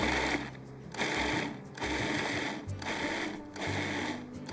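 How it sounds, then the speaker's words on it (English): Food processor pulsing toasted walnuts, loud motor whirs in short bursts of about a second with brief gaps between, four or five pulses in all, no talking. "So I'm going to put the top to the food processor on. And we are just going to pulse that."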